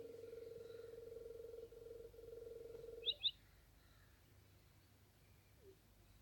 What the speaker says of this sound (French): un vrai corbeau qui est au-dessus de chez moi, quoi, qui est sur le toit, il est en train de faire grec, grec